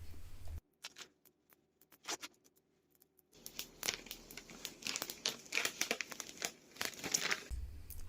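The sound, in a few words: peeling transfer paper off a sticker on a mirror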